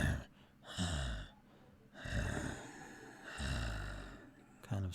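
A voice imitates a dying owlbear's laboured breathing with several heavy, rasping gasps and drawn-out wheezing breaths, close and fairly loud, each swell followed by a pause.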